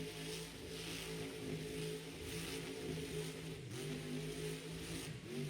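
A truck spins a donut through thick mud at a mud-racing event in Miami, Oklahoma, its mid-pitched engine revving loudly and steadily under a continuous wash of spraying dirt and crowd noise.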